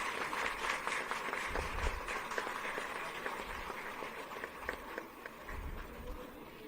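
Crowd applause greets guests at a foundation-stone ceremony for a data centre in Ghaziabad, a steady wash of clapping at moderate distance, fairly faint, with scattered louder claps through it.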